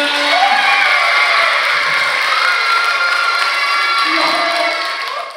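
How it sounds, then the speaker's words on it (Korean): A fan-meeting audience cheers and shouts in a loud, sustained roar, with high excited voices and clapping blended together. The noise holds steady for several seconds before it begins to fade. "박수 주세요."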